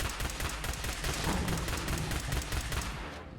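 Classic Laser Pistol from a Fallout 4 mod firing in a video game, a fast steady stream of rapid shots blurring together at a constant loud level for a few seconds, with no talking.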